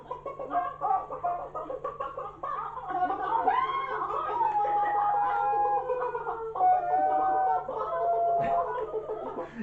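Several people cluck and squawk in imitation of chickens, overlapping voices in a continuous, lively chorus with a bit of laughter.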